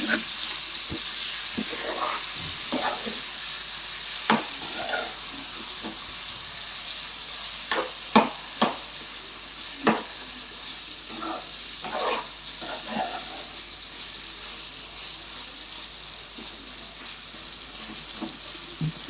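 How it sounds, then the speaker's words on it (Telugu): Chicken pieces stirred in a pot of hot oil for bagara rice and chicken curry, with a continuous close sizzle and frying crackle broken by repeated clinks and scrapes of the spoon against the pot. "ఇప్పుడు చికెన్ వేసుకుందామండి. ఒకసారి కలుపుకుందామండి."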